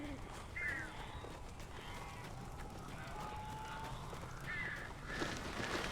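Crows caw in the Alan Wake video game, a few harsh, drawn-out calls rising over a steady, low ambient rumble.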